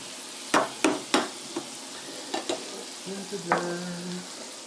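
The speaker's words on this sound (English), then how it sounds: "Just give that a stir." Food sizzling in a pan is stirred. A few sharp clanks of a utensil against the pan sit over a soft, steady frying hiss, close by and without talk.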